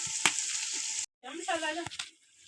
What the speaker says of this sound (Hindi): 1 चम्मच डालेंगे हम कढ़ाई मसाला और भूनेंगे।